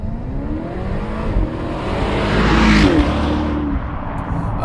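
A BMW Alpina XB7 SUV engine pulls hard under acceleration, its deep drone rising and swelling to a peak before easing slightly, loud and close with no voices.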